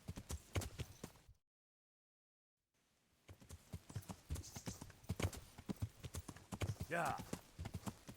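Horse hooves walk at a steady clip-clop in Kingdom Come: Deliverance, with someone talking over them and a brief silent gap partway through.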